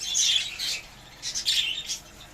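Budgerigars in a breeding cage chirp in quick, bright, close bursts, two clusters of twittering calls separated by a brief lull.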